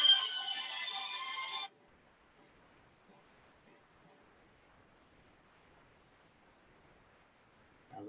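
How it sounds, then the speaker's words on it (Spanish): A mobile phone rings loudly at the start with a bright electronic tone, cuts off abruptly, and near silence follows until a brief sound returns at the very end. "A ver si se apaga el teléfono del demonio."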